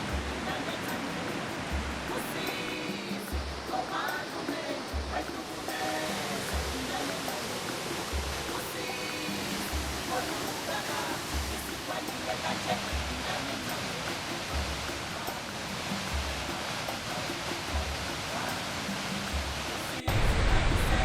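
Victoria Falls in Zimbabwe during the dry season, a steady broadband roar of falling water that fills the whole scene without letup, with a voice speaking faintly over it.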